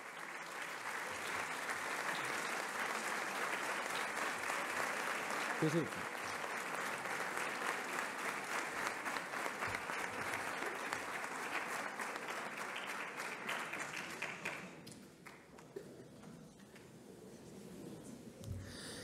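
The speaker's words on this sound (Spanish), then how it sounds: "Despidámonos con un fuerte aplauso" A concert audience gives a band a long, loud round of applause at a Santa Cecilia concert, sustained dense clapping that continues for many seconds before softening near the end.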